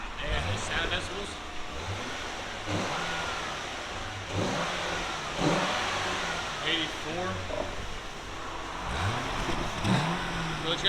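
A stock-exhaust 2008 Chevy Corvette with an LS3 V8 revs repeatedly, its engine swelling and dropping in short bursts up close, with voices talking over parts of it.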